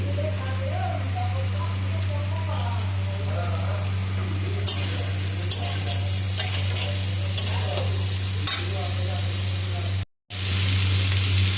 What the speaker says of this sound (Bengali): আলুটা একটু ভাজা হয়ে গেছে আর তারপরে আমি দিয়ে দিচ্ছি বিনসগুলোকে।